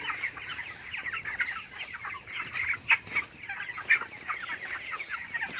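A flock of large, well-grown broiler chickens clucks continuously in a fan-cooled poultry shed, a dense, steady chatter of overlapping calls with a few sharper squawks standing out.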